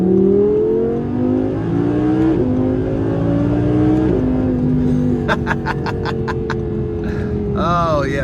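A 610-horsepower Audi R8 V10 Plus engine accelerates hard, its pitch climbing and dropping through several gear shifts, loud and close, with a droning roar throughout.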